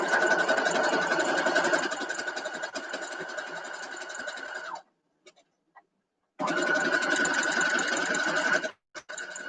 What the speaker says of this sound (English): make sure that it's all lined up evenly because we're going to assembly line sew